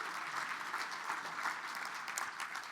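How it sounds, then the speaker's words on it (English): A crowd at a champagne brunch gala gives a round of applause, dense continuous clapping from many hands, fairly loud and steady, with no voices standing out. "You don't do anything in a round of applause, standing ovation"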